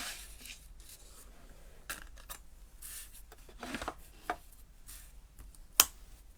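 Scissors cutting out a paper picture, a series of soft snips and rustles close by, ending in one sharper click; quiet overall, with no talking.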